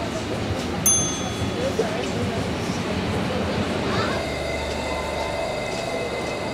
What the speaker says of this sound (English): They're not hanging around here, are they, these trains?